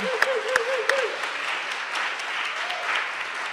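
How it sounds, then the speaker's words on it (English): Audience applause for the artists at the Boulder Fringe 2019 festival opening ceremony, a steady wash of clapping with a few sharp claps and a brief tonal sound near the start. "let's give them a round of applause"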